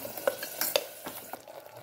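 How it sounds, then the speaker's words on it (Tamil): Salna is stirred in a pan, a spoon making quick, close scraping clicks against the metal with a light sizzle underneath, and no one speaking. "நல்லா கிண்டி விட்டுக்கோங்க."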